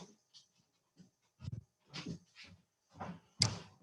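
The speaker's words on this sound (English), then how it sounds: "there's a little puppy in the house who wants to come in and out" A little puppy moves about indoors, with soft panting breaths and a few scuffling bumps and thuds coming in short irregular bursts, close by and fairly quiet, with no talk.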